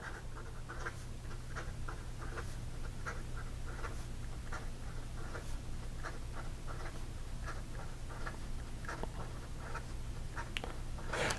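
A Pilot Vanishing Point fountain pen with wet ink writes fast across paper, giving a steady run of quick, soft nib scratches over a constant low hum.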